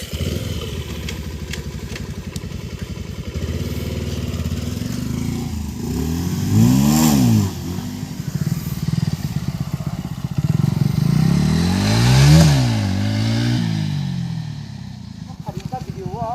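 Motorcycle engine revving hard during stunt practice on a Sunday ride, rising in two strong surges against a steady loud engine drone, with speech heard over it.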